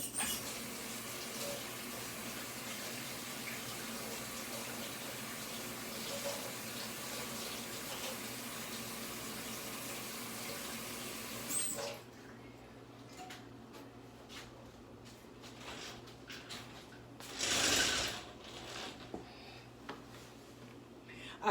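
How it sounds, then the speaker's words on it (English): Peppers are rinsed under a running kitchen tap: a steady close hiss of water pours for about twelve seconds, then stops, followed by quieter handling sounds and a brief second burst of water. "let me rinse these real quick"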